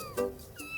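Cartoon kittens let out a couple of brief, high meows close together, faint and alone.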